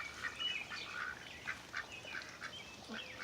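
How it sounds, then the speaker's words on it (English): Backyard ducks by a garden and orchid greenhouse quack in a quick repeated series, several calls overlapping at moderate distance with no talking. "My ducks."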